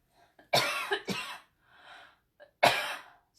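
Several harsh coughs close to the microphone, two quick ones in a row, then a softer throat sound and one more strong cough after a pause.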